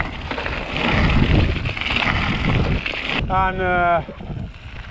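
Wind buffeting hard on a dark hill climb up the Wrekin, a loud rumbling roar across the microphone, broken near the end by a brief shouted voice.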